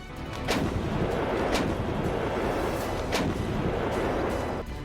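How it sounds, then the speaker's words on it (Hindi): An M777 howitzer fires repeatedly, with several sharp booming reports spaced about a second apart over a dense, rumbling roar, loud and sustained, with no speech. "M777 बहुत ही सटीक है। इसकी फायरिंग स्पीड बाकी तोपों के मुकाबले गजब की है।"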